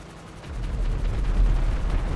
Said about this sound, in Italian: Così ha sganciato le bombe a grappolo, che fanno danno